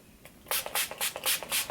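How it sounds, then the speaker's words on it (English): A short fizzy burst of Wet n Wild setting spray onto a face comes in several quick pumps, one after another, close and crisp with brief pauses between them. "Let me just spray it."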